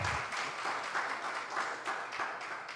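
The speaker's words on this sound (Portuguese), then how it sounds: "Você dá um aplauso aí para ele aí." A church audience gives a round of applause, a dense, even wash of clapping from many hands that holds steady for a few seconds with no voices over it.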